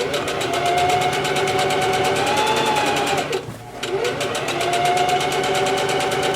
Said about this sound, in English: So just continue sewing it all the way down.